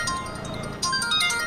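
A phone ringtone plays alone, a bright electronic melody of clear sustained tones that grows a little louder and busier halfway through, ringing steadily with no voices over it.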